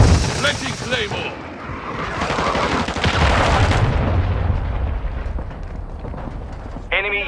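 Cruise missile strike in Call of Duty: Modern Warfare II, a long roaring rumble that builds and lingers over several seconds amid game chatter, with speech heard near the start and end.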